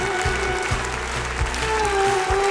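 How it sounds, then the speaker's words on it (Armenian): Concert audience in Yerevan clapping for the soldiers, a steady sustained wash of applause lasting throughout, loud and close, with faint music tones held underneath. "Եկեք բարձր ծափ արենք մեր զինվորների համար"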